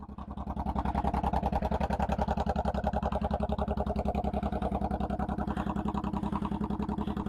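A motorcycle with aftermarket pipes idles steadily nearby, a loud, even, rapid thumping exhaust pulse throughout.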